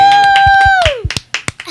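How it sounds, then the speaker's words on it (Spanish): A small group claps for a six-year-old boy who has just been introduced at home. A sustained voiced tone comes first, then a handful of sharp, scattered claps follow close by. "Un aplauso para Mario Yair"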